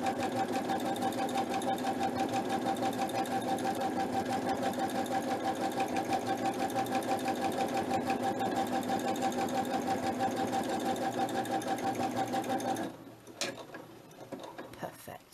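A sewing machine stitches a decorative wavy line on fabric, running in a fast, even mechanical chatter for about thirteen seconds before stopping, leaving a few soft handling clicks.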